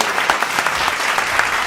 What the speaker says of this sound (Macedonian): Да го поздравиме со еден аплауз!